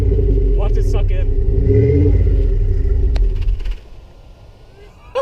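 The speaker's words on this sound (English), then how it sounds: "Rev it like crazy." Car engine revving hard with a condom stretched over the muffler, a loud continuous rumbling roar under excited voices before the revs drop away near the end.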